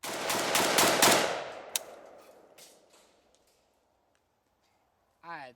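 A Polish Archer semi-automatic Beryl AK rifle chambered in 5.56/.223 fires a rapid string of loud, sharp shots at an outdoor range, followed by fading echoes and a brief bit of speech at the end.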